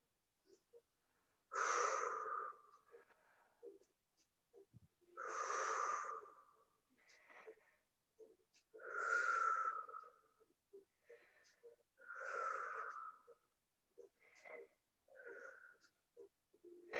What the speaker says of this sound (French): on étire la sangle abdominale et lombaire en faisant des grandes respirations ventrales